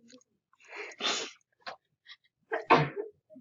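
A single sneeze bursts out close and loud in a quiet room, with a sharp intake before it and a few small mouth and breathing noises around it.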